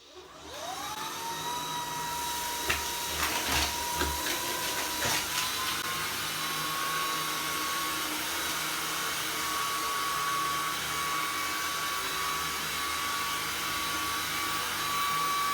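Shark IF250UK cordless vacuum cleaner running on its low-power carpet setting, a steady close whine with a rising tone that settles into a constant hum, with no talking.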